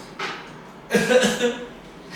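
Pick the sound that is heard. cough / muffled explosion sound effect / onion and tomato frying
cough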